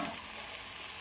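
Fried bhetki fish bones being stirred in a pan, a brief soft sizzle with scraping stir noise, quiet and close.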